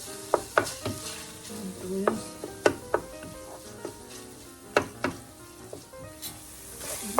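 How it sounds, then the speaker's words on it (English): Tofu and other ingredients being sautéed in a pan: a quiet, steady sizzle punctuated by sharp clicks and taps of a utensil against the pan, irregular and close. "Saute it."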